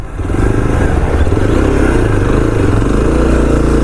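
A motorcycle engine on a road near Masinagudi roars loud and close, swelling as it revs and then holding a steady, heavy drone with no talking.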